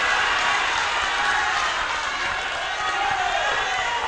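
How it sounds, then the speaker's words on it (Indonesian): Sustained crowd applause from a debate audience for two pairs of regency head and deputy candidates in Pasaman, a steady dense wash of clapping at even level throughout, with some murmuring voices mixed in. "kita berikan tepuk tangan yang meriah untuk kedua pasangan calon"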